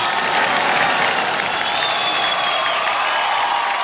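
Applause ripples through the audience at the Filmfare Awards show, a steady, dense clapping and crowd noise from a large hall, continuous and moderately loud.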